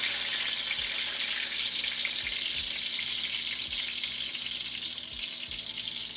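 Moist pieces of coconut-milk bammy fry in hot oil in a Dutch pot, giving a steady, dense sizzle with faint pops. Nobody speaks over it.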